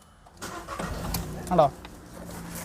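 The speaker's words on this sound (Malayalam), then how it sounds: "അപ്പം സ്മൂത്ത് സൗണ്ട് സ്റ്റാർട്ട് കാണിക്കും." A used Volkswagen Polo cranks and its engine catches with a short burst, then settles into a steady idle, heard close with some background noise around it.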